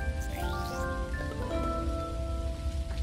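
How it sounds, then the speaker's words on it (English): Rainfall in the video game Dinkum, a dense, steady hiss of drops pattering on surfaces, loud and continuous, with faint tonal game music lines sliding over it. "Oh, it's rain."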